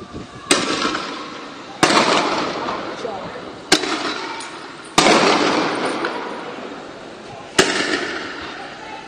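Homemade bombs and fireworks going off during a street riot on Avenida San Martín near Capuchinos in Caracas, five loud sharp blasts spaced a second or two apart, each trailing into a long rumbling echo between buildings.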